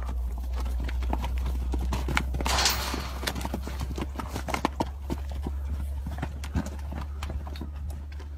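Hooves clip-clop steadily as a group of horses walks at a kill pen in Pitkin, Louisiana, with a constant low rumble underneath and a brief burst of noise partway through.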